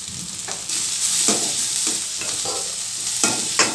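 Crushed ginger and garlic fry in a pan for a chilli prawn fry, a bright close sizzle with repeated stirring scrapes at an uneven rhythm, no voices.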